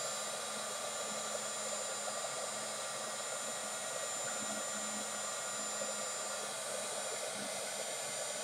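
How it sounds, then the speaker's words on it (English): A heat gun blows steadily to dry one side of an envelope mini album paper craft, a constant close whooshing hiss with no pauses and no talking. "I'm just going to dry this side really quickly with my heat gun"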